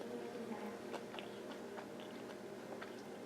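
Someone chews crisp, sweet homemade French toast sticks dipped in syrup, with a quiet close series of crunchy bites and wet mouth sounds and no talking.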